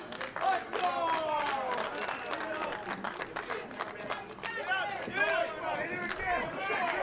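Wrestling crowd at a women's title match applauding and cheering, a dense roar of clapping and voices running steadily throughout, with a commentator talking over it.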